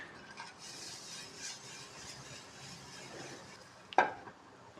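Sugar and milk are stirred in a mixing bowl for Tirupati laddu, a faint, soft, continuous swirling with one sharp clink of the spoon near the end.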